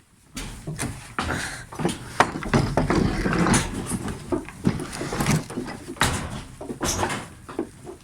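A door being opened for waiting animals, with several clattering, scraping knocks amid rustling and faint bird-like calls, close and fairly loud.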